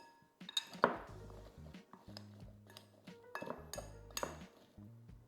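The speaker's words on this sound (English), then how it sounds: "And now I'm just going to give that a really good stir." Food tossed with smoked paprika in a bowl for a sweet potato burrito bowl, a spoon scraping and clinking against the bowl in irregular bursts, quiet and close with no talking.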